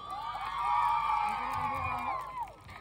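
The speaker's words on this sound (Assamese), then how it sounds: "আপোনালোকৰ পৰা এজাউৰি হাত চাপৰি বিচাৰিছো" At a live Magh Bihu program in Assam, an audience lets out a swelling crowd cheer with whoops and shouts that rises, holds for a couple of seconds and then trails off.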